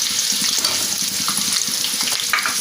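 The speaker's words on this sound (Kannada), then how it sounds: "ಇವಾಗ ಇದನ್ನು ಲೈಟಾಗಿ ಫ್ರೈ ಮಾಡ್ಕೊಳ್ಳೋಣ. ಸೊ ಇದಕ್ಕೇ ಇವಾಗ ನಾನು ಆನಿಯನ್ಸ್ ಹಾಕ್ಕೊಳ್ತೀನಿ." Finely chopped onions fry lightly in a pan for vegetable Manchurian, a loud, dense, steady sizzle with bursts of spattering and occasional stirring scrapes, close and continuous.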